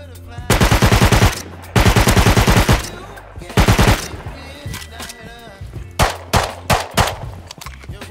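Automatic AK rifle fire in the survival game Rust: several loud, close bursts of rapid shots with short gaps between them, followed by scattered fainter shots and quiet game ambience.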